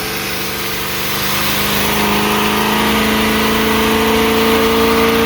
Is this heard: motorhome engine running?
yes